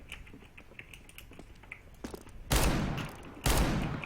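In the video game CS:GO, an R8 revolver fires two loud, close gunshots about a second apart, each with a short decaying tail, after quieter in-game clicks and footsteps.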